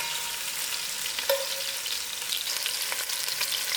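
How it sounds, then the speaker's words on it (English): Onions fry in a pot with a soft, continuous sizzle and a single faint utensil tap, close and quiet with no other sound. "add in my onions. And allow this to fry for a few minutes."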